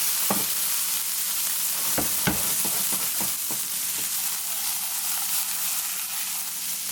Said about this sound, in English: once my saucepan is nice and hot, I'm going to go ahead and just add my bacon right into there